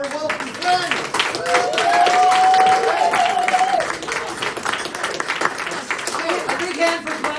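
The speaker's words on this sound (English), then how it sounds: "One round of applause again for Welcome Friends." An audience claps at an evening gathering at the Mercury Cafe, scattered hands forming a lively round of applause with voices and cheering mixed in.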